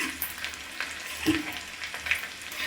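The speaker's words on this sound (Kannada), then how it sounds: "ಚೆನ್ನಾಗಿ ಫ್ರೈ ಆಗಬೇಕು ಈರುಳ್ಳಿ ಅದಕ್ಕೆ ನಾವು ಬೆಳ್ಳುಳ್ಳಿ ಕೂಡ ಹಾಕೋಣ" Chopped onion and garlic fry in a hot pan with a steady, moderately loud sizzle, broken by a few soft scrapes and clinks as the mix is stirred.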